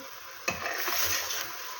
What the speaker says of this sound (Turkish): Hazırlamış olduğumuz soğanı güzelce kavuralım ilk önce